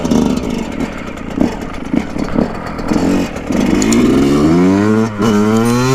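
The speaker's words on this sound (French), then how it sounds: "Petit démarrage" Yamaha 125 YZ two-stroke dirt bike pulling away from a start, its engine blipping and then winding up into a loud, rising rev that climbs steadily, close to the microphone with no talk over it.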